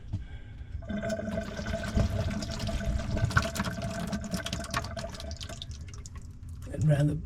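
Water draining from the pipes of an electric tankless heater into a pan, a continuous splashing trickle that runs under someone speaking nearby.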